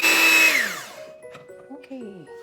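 Eggs being mixed into plain loaf cake batter: a loud motorized whir sweeps down in pitch and dies out within a second, followed by quieter scattered clinks and faint tonal sounds.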